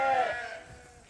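A single Dorset sheep on a farm gives one short, wavering bleat near the microphone. The bleat fades away over about a second, with no voices alongside.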